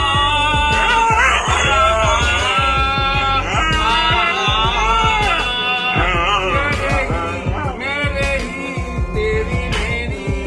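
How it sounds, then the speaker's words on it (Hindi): A dog howls in drawn-out, wavering tones as if singing, its voice rising and falling over rhythmic beats, loud and close for the whole stretch. "हमारे वफादार कुत्ते अब घर की रखवाली करने की जगह नाचने और गाने भी लगे हैं"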